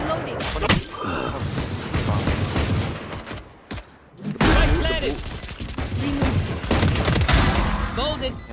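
Gunfire in Valorant crackles in repeated bursts and sharp single shots, loud and near, with a short lull midway, while players talk over the shooting.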